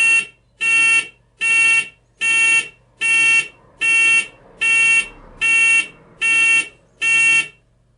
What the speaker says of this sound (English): we will hear the 6-volt buzzer being turned on several times